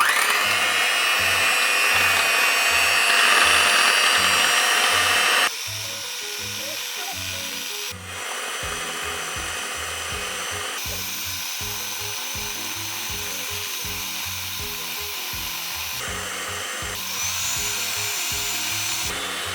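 A mixer whips Milo dalgona, a sweetened Milo powder and cream mixture, with a steady, loud whirring drone that holds for about twenty seconds and shifts pitch slightly as the mixture thickens.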